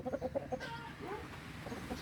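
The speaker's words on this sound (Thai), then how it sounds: "อันนี้เป็นฟาร์มไก่ชนนะครับ" Several short clucks from a fighting rooster up close at the start, on a fighting-cock farm, followed by quieter muffled background noise with other birds faintly present.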